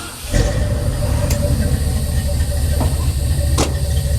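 A pickup truck engine catches with a sudden rise into a steady, loud idle that rumbles evenly up close, with a few brief clicks and knocks over the running motor.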